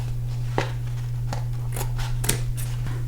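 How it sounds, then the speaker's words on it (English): Scissors snip off excess material from a glued homemade ice cream Halloween costume piece, a few short crisp cuts spaced irregularly over a steady low hum, close and fairly quiet. "Glue that on and then cut off the excess."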